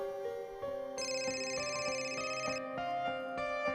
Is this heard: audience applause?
no